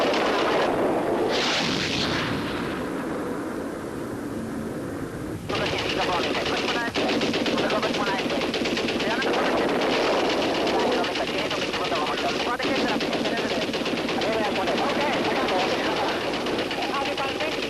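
Sustained machine gun fire from aircraft in archival 1967 Six-Day War dogfight footage, long loud rattling bursts with engine drone and occasional booms, while a narrator talks throughout.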